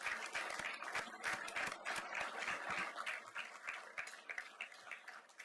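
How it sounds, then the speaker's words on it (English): A school-event audience gives the three candidates and the moderator a round of applause, with fairly quiet, distant-sounding clapping whose sharp individual claps stand out, steady throughout before tapering slightly. "let's give them all a big round of applause"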